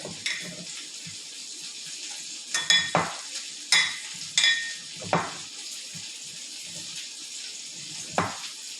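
Mushrooms sautéing in butter in a pan, a soft sizzle broken by several sharp stirring scrapes and clatters every second or so, close by with no talking.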